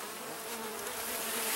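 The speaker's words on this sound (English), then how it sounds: "So you can see there's a good amount of bees here." Honey bees buzz at an open hive during an inspection, a dense, steady, close drone that swells slightly toward the end, with no voices over it.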